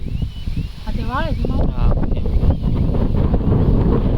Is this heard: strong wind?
yes